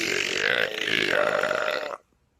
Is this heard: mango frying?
no